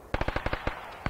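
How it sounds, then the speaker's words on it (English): Incoming automatic gunfire in the ArmA 3 military shooter, a rapid burst of about eight sharp cracks in quick irregular rhythm followed by one more shot, close and punchy. "Oh, their shots come in."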